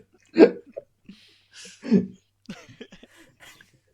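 Several wheezy, rough coughs from a child-like voice, spaced irregularly with short breathy sounds between them.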